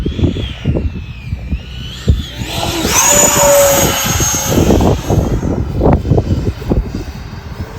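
A Freewing Hornet RC model jet flies past, its engine throttling up into a loud, rising whine with a steady high tone, while someone talks in short bursts over it.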